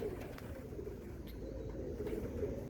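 Pigeons coo softly and continuously over a steady low ambient hum, with a few faint chirps in the background.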